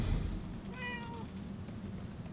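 A cat in the video game Murdered: Soul Suspect gives a single short meow over a low ambient game background, with no voices.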